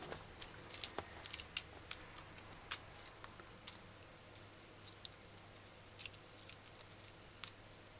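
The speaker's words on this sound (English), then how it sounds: "Peel garlic, cut ends," Kitchen scissors snip garlic clove ends in a quiet series of irregular, crisp clicks and cuts, close up and alone.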